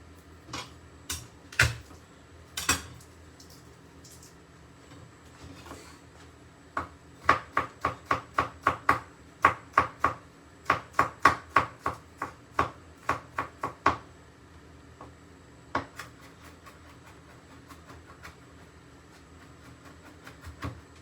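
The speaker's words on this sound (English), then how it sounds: "Couple of cloves of garlic going in as well. This is actually smoked garlic. Just crush those, remove the skins." Smoked garlic cloves are crushed and peeled in a home kitchen, heard as a run of sharp, close knocks and cracks on a board, some spaced, some in quick rhythmic bursts, with quiet gaps between.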